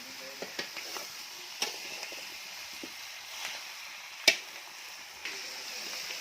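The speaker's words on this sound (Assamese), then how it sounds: "মাংসখিনি আমি অলপ দেৰি ভাজি ল'ম" Local country chicken meat sizzles softly in a pan with a steady low crackle, punctuated by occasional sharp clinks and scrapes of a utensil stirring.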